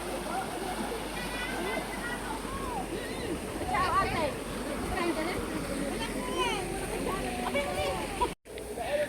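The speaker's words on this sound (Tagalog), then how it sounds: "Agos ng tubig. Lakas." A strong current of river water rushes and splashes steadily, close and continuous, while several people talk and exclaim over it throughout.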